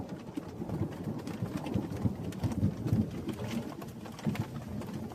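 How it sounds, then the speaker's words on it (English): Heavy rain pours steadily outdoors during a thunderstorm, a dense continuous wash of sound with low rumbling throughout, loud and close. "It's taking heavy rain, overflowing."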